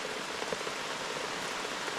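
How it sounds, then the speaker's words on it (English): Steady morning rain patters on a truck camp, a dense, even hiss of drops hitting the surface close by, with no voices over it. "It is still raining."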